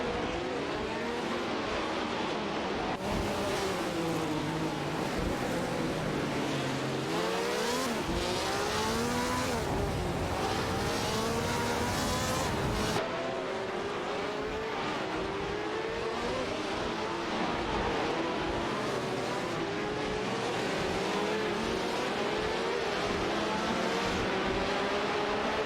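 Racing-game engines from a Honda RA 300 and Ferrari 312 scream continuously, pitch rising and falling through gear changes and overlapping as cars battle closely, with occasional brief squeals; loud and steady throughout without speech.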